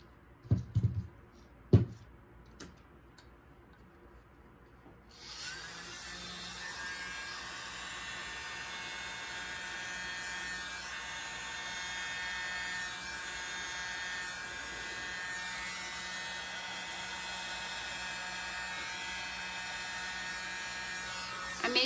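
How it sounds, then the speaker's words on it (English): A small leaf blower used to blow acrylic paint starts after a few light clicks and handling knocks, then runs as a steady, close, high-pitched whirring hiss without pause for the rest of the clip. "I am going to just use my little leaf blower and blow this area."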